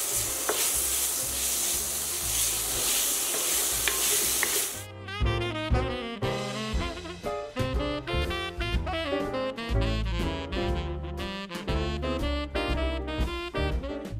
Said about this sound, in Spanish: Ahora en la misma sartén vamos a estar añadiendo nuestra carne de res.